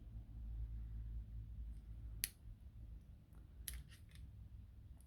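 Small scissors snipping wire while building a miniature kitten room, a sharp single snip followed by a quick cluster of three or four faint snips, close but quiet over a low background hum.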